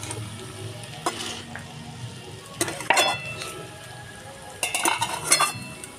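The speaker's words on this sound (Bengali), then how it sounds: "ভালো করে নাড়িয়ে চাড়িয়ে ভেজে নিতে হবে।" Chowmein noodles being stir-fried with salt sizzle steadily in a pan, broken by several sharp clinks and scrapes of a spoon against the metal at intervals.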